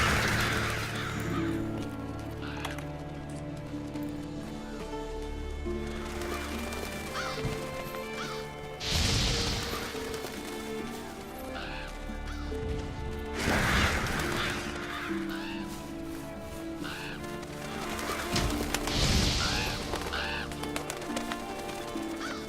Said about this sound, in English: Seems the black birds are the culprits.